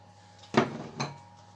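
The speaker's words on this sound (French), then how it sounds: "On va mélanger tout ça." Madeleine batter ingredients being mixed in a bowl, two sharp clinking knocks of a utensil against the bowl less than half a second apart in a quiet kitchen.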